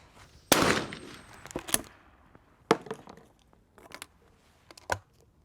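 Shotgun shots ring out at clay targets on an Olympic Skeet range, with one loud blast followed by several sharper, fainter cracks and reports spaced a second or so apart outdoors, no talking.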